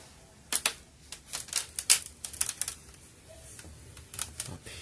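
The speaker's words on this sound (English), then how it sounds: "I'm going to score the plastic" A blade scores plastic for a Kylo Ren helmet build, making a run of short, sharp scratching clicks in uneven bursts, close and fairly quiet, with no talk.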